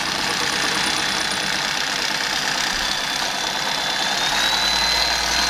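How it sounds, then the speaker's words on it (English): A homemade CNC machine's motor runs steadily and loudly throughout, a continuous mechanical hum with a faint rising whine toward the end, no talking. "start the motor."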